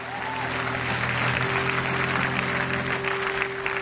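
A church congregation applauds the Lord with loud, sustained clapping that fills the room, while steady held tones ring underneath and a voice briefly rises over the clapping.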